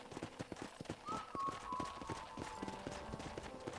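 Horse hooves clip-clopping in the Red Dead Redemption video game, a steady rhythmic run of soft hoof knocks at moderate distance over faint ambient background.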